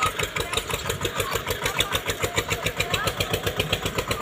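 An Eicher 241 tractor engine runs in fourth gear, a loud, close, steady diesel chugging with an even rapid pulse throughout.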